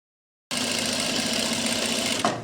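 Sewing machine stitching a palazzo pant, starting abruptly after a moment of silence and running as a steady, fast mechanical whir and rattle, close and loud, with a brief change in tone near the end.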